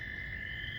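A steady, continuous high-pitched toad trill rings out unbroken, with no pauses, over a faint low background hum.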